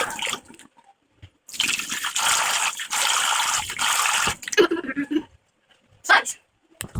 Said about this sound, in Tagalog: Let me wash my face.